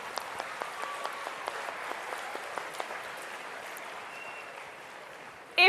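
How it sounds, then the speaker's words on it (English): Audience applause at a crypto trading and wealth-sharing seminar in Salt Lake City: fairly faint, steady clapping from a crowd, sustained for several seconds and tapering near the end, with no one speaking. "Big round of applause to you guys."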